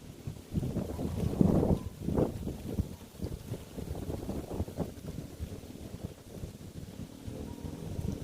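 Strong wind over open ground near a bridge in a rural barangay buffets the microphone in uneven gusts, low and blustery, heard alone without voices for the whole stretch.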